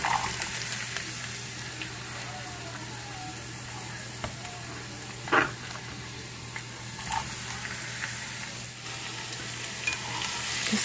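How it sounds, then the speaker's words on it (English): Diced peppers and onions sautéing in hot olive oil in a pan, a faint continuous sizzle with a few sharp clinks and stirring scrapes, close and quiet. "I have some olive oil heated in the pan, and first I'm going to add the peppers and onions."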